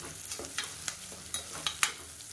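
Small chillies and onions sauté in a pan, a soft background sizzle cut by several sharp scraping stirs at irregular intervals.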